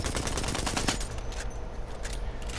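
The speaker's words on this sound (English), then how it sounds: "Not having much ammo on my alternator left, try to find the opportune moment to open fire." Alternator gunfire in an Apex Legends-style shooter: a rapid burst of automatic shots for about a second, then scattered distant gunfire and game ambience, loud and close at the start.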